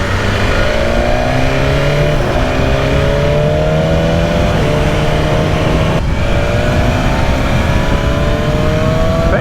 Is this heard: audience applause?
no